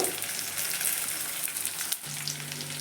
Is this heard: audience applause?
no